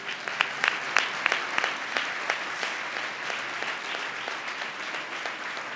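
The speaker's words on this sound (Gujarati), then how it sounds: "તમને કે તાળી પડવાનું મન નહીં થતું?" A congregation at a religious katha claps in a fairly soft, even stream, with a few sharper, closer claps standing out near the start.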